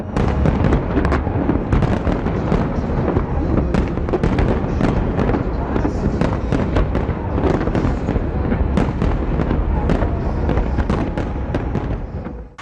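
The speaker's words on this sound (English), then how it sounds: "The fireworks were set off around London's famous Ferris wheel." A New Year fireworks display launched around London's Ferris wheel: a dense, continuous barrage of loud booms, crackles and sharp pops rolling on without pause, with faint crowd noise beneath.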